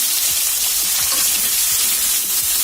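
Hog plums (amra) drop into hot oil already holding cumin and green chillies, setting off a loud, continuous sizzle with soft stirring scrapes, close and without talk.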